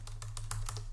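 A password being typed on a computer keyboard during Windows Server 2019 setup, about seven quick, light key taps in an uneven rhythm, close and quiet over a steady low hum.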